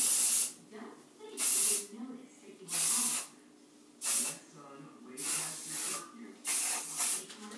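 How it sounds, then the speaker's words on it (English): An aerosol thermal hair spray fires in a series of about seven short, sharp hissing bursts, spaced roughly evenly with quiet gaps between, close and fairly loud. "And take my thermal spray."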